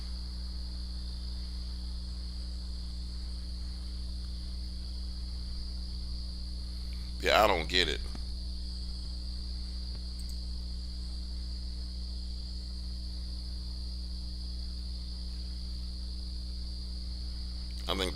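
Crickets chirp steadily and evenly throughout, a constant high trill in a quiet night, with a brief short remark spoken midway.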